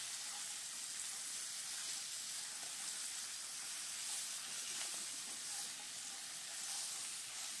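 Flat beans (shim) fry in a pan for shim posto, giving a steady, fairly quiet sizzle and hiss with faint scrapes of stirring, continuous and without any voices.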